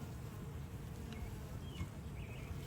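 Honeybees at an open hive during an inspection: a low, dense, continuous buzzing hum, steady and fairly quiet, with a few individual bees passing nearby and no talking.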